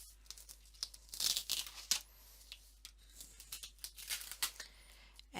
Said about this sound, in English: we're just going to lift the vinyl off of the cutting mat